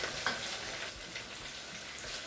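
Vegetables for Mallorcan tumbet fry in plenty of oil, giving a close, steady sizzling crackle with faint stirring.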